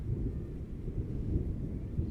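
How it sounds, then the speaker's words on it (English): Thunder from a big thunderstorm rolls as a low, steady, faint rumble across an open outdoor fishing spot, continuous for the whole stretch with no sharp crack. "Ooh, boom, big thunderstorm"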